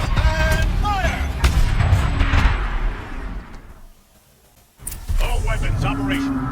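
In the video game Horizon Zero Dawn, at Maker's End, heavy weapons boom in loud repeated bursts, pause briefly into near silence, then resume, with voices over the blasts.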